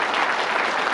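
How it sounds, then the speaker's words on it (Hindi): Loud, dense applause from an audience at a silver jubilee alumni meet, a continuous close wash of many hands clapping through the whole second. "उनके लिए बहुत बड़ी तालियां बजा दीजिए।"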